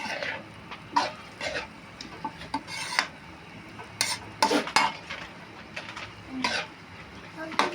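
A spoon stirs and scrapes through picadillo, ground meat simmering with water and tomato paste in a pan, giving soft repeated scrapes and clinks near the microphone with a faint sizzle beneath.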